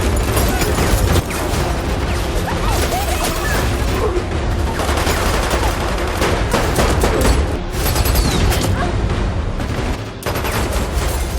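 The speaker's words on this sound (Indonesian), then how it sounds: "terjadi aksi tembak-tembakan" Dense, rapid bursts of gunfire during an action-film shootout aboard a boat, loud and relentless with overlapping shots and brief booms, barely pausing across the scene.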